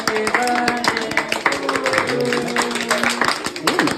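Hands clap throughout a family birthday celebration, a steady patter of claps mixed with voices singing and chattering in a lively room.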